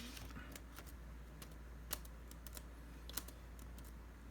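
Quiet typing on a computer keyboard, a sparse run of soft key clicks with a couple of sharper taps, alone and close over faint room hum.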